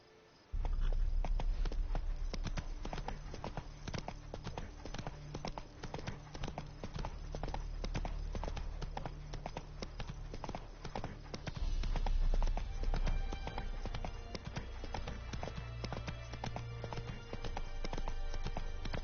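Horse hooves clip-clop in a quick, even rhythm for nearly the whole stretch, close and prominent, as a horse is ridden along in the Witcher 3 video game.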